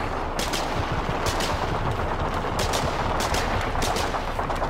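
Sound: gunfire at bunker in video game Foxhole

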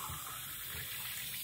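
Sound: water running from a tap while making tea

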